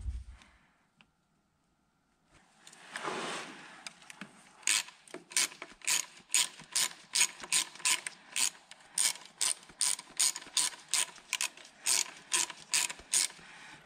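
A ratchet and socket tighten the mounting bolts on a Smart car EGR valve. After a brief rustle, steady close-up clicking repeats in an even rhythm, each click sharp and distinct, with no voices.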